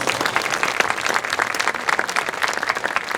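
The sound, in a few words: audience applauding marching band members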